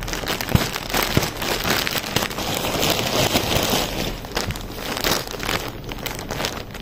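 Crinkling plastic packaging and rustling as a Temu order package is opened, with bursts of crackly handling noise throughout, fairly close and continuous.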